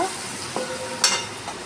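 Green chili and chopped onion stirred in hot oil with ground cumin: a steady sizzle broken by a couple of sharp scraping strokes of the spatula against the pan.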